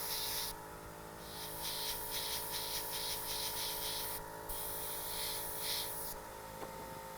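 An airbrush spraying red food colouring through a stencil onto a cookie gives faint, light hissing bursts, several short puffs in a row followed by a longer spray, with a soft background hum.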